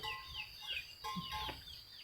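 Free-ranging farm chickens in a rural setting cluck repeatedly in short bursts at moderate distance, alongside occasional higher bird chirps, with no talking.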